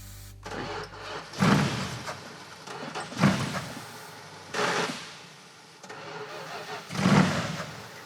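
A Pro Street drag car engine cranks on starting fluid in four loud, separate bursts about two seconds apart, each catching briefly before dying away.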